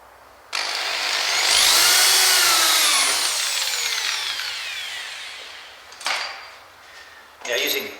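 Power drill driving large screws into the wooden benchwork of an HO scale model railroad layout, a loud sustained whir that ramps up and slowly winds down, followed by two short bursts.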